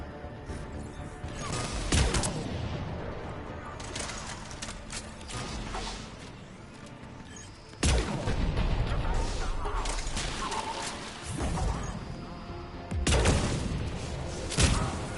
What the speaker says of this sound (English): Cannon fire is clearing the way.